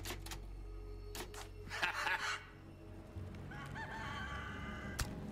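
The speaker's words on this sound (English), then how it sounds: "I hear a chicken." Chicken in the video game Resident Evil 4 Remake, with a short burst of clucking and crowing in the middle and scattered clicks and game ambience around it.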